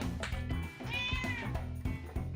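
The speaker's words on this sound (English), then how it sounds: "we'll take care of the kitty cat" A cat meows clearly and fairly close, a drawn-out cry heard over steady background music with rhythmic beats.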